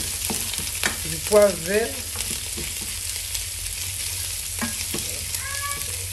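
Onion, garlic, thyme, cumin and spices frying in a pan for rougail saucisse, a steady hiss of sizzling with scraping stirring sounds, while a person speaks briefly over it.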